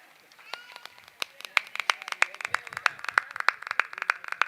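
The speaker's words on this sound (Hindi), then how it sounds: "ताली बजाते रहिएगा।" An audience clapping at a live Ramkatha religious gathering, starting with scattered claps and building into a brisk, steady rhythm of many hands, close and crisp.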